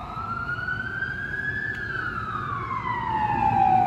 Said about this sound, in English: Yep, ambulance, another ambulance.